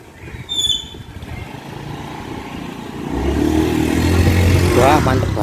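A motorcycle pulls away on a test ride after its fuel injectors were cleaned, the engine droning louder as it accelerates, with a voice talking over the ride near the end.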